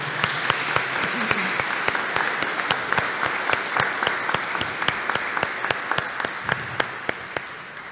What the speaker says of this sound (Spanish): con otro fuerte aplauso para nuestros sacerdotes.